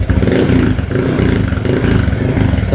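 A 2022 Honda Click 125i scooter engine revs loudly through its exhaust, a throaty, rumbling roar that rises and dips in waves, close up with no voices.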